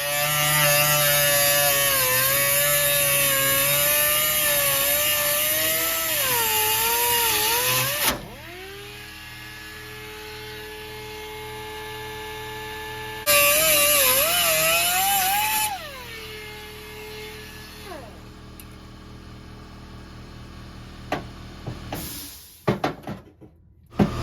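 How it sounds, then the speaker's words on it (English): Cutting tool slicing through the sheet-metal floor of a Foxbody Mustang race car, a loud whining cut with wavering pitch running for several seconds, pausing, then a second burst, followed by quieter clanks and rattles. "cutting up the floor."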